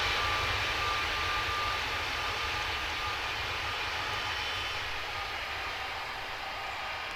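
Airliner taking off at Zurich in Tower Simulator 3, a steady broad engine roar in fog, constant and fairly loud with a low rumble beneath, no voices.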